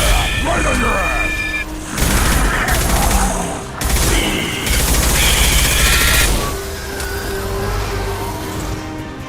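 Loud, dense gunfire rattles in the shooter game Mass Effect 2 with booming impacts and layered battle noise, while combat voices call out over it.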